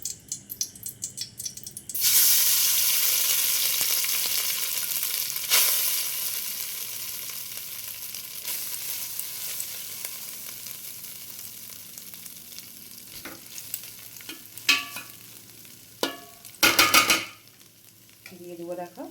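Rice pours into a hot biryani pot and sets off a loud, steady sizzle that fades slowly, followed by scraping and a few sharp clatters of a utensil against the pot near the end.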